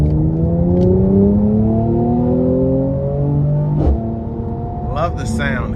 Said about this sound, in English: we'll give it some throttle here as well